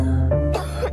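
A single dry, harsh cough, then a second throat-clearing burst, close and fairly loud with no talking.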